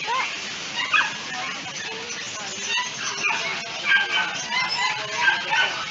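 Several dogs in a busy Manila street market make scattered yips and whimpering barks at a moderate distance, mixed into steady crowd chatter and street noise.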